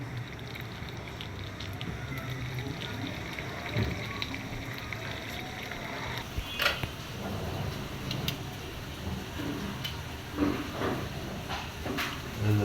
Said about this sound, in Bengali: রাইস কুকারে ভাত রান্না হচ্ছে